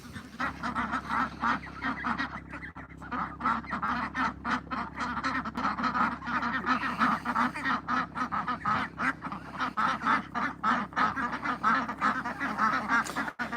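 A flock of ducks and geese at an off-grid homestead calls continuously, with dense overlapping quacks and honks close by and a steady low rumble underneath, no talk.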